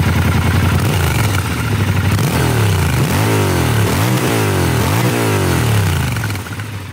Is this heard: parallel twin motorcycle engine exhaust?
yes